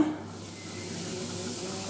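Steam vents from a pressure cooker on a full flame before its whistle is fitted. It makes a steady, even hiss with a soft low hum underneath, and no talking is heard.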